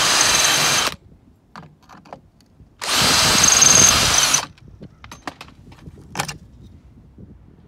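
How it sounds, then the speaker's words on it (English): A power drill boring out rivets on a 1973 GMC motorhome, two close bursts of high whine about a second and a half long each, separated by quiet clinks and handling noises. "we'll drill these rivets out and get this thing back on"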